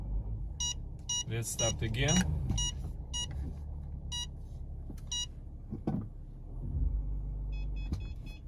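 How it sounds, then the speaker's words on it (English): Sharp electronic beeps from a Mercedes Parktronic rear parking sensor repeat at irregular intervals inside the car over a low engine hum, while a person speaks briefly. "It starts beeping even more"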